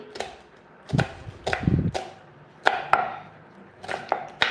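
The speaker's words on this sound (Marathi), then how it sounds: "तर मी आता ही व्यवस्थित कांदा कापून घेते मस्त बारीक बारीक चिरते" A knife finely chopping onion on a board in a home kitchen, a few bursts of quick close taps separated by short pauses.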